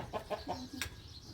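A chicken clucks in a quick series of three or four short calls followed by a sharper one, faint and close against quiet background noise.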